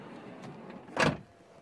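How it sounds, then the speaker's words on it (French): A Volkswagen California van door shuts with a single solid thud about a second in, over a low steady background hum; no voices. "Je ferme la porte"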